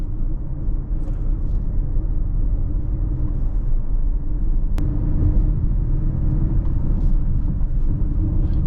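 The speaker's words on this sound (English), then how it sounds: "You can hear the turbo just barely under light acceleration." Acura RDX turbocharged engine under light acceleration from inside the cabin, a loud steady low rumble and road noise with no clear turbo whistle standing out.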